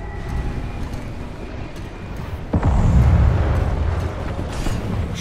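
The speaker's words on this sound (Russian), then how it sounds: "Их роботы с самоподрывом пробивают стены." Self-destructing robots in Overwatch 2 blast through walls: a sudden heavy explosion strikes midway and leaves a loud, deep rumble over a steady low mechanical drone.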